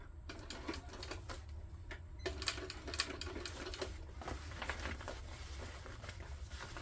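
A sewing machine top stitches the bottom of a tote bag with soft, quick, rhythmic needle chatter and light fabric rustling, faint and close.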